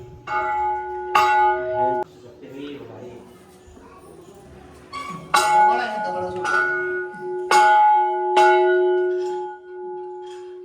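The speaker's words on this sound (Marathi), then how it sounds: "हा चारशे साठ किलोचा घंटा आहे याचा नाद सहा किलोमीटरपर्यंत जातो" A 460 kg temple bell at a Shiva temple rings in several loud, long-ringing strikes at irregular intervals, with people talking and background murmur between strokes.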